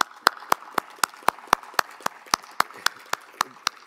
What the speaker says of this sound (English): Let's stop and have a round of applause for.